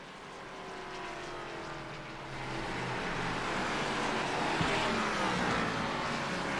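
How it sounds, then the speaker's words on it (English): Gen 4 stock cars rumble around the Richmond oval, a steady, loud engine drone that swells midway and holds, with no voices over it. "Listen to them Gen 4s rumble. So much power in these cars."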